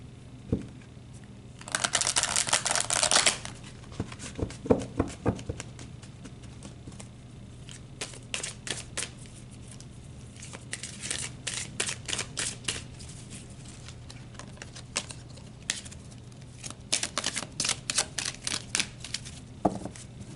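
Oracle cards are riffled and shuffled in fast papery bursts, followed by softer snaps and flicks as cards are handled and drawn, close up and without talk.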